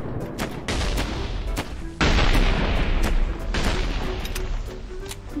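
A scoped gun in the video game Mini World fires in bursts of sharp, loud cracks, with several shots in quick succession and brief gaps between volleys.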